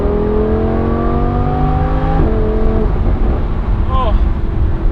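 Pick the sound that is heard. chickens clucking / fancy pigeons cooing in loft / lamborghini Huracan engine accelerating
lamborghini Huracan engine accelerating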